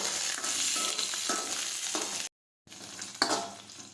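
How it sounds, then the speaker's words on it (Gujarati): Tindora (ivy gourd) and green chili sambharo sizzling and being stirred in a pan, a steady frying hiss with scraping stirs, briefly cut to silence before the sizzle resumes. "હવે એકદમ સરસ સડી જવા આવ્યો છે સંભારો."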